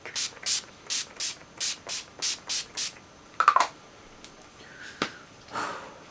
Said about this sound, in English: Then I take the Decay All Night Pollution Protection Setting Spray.